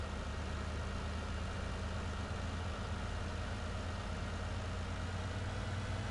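Tractor engine idling in the game Farming Simulator 19, a steady low drone that stays even and unbroken throughout with no talk over it.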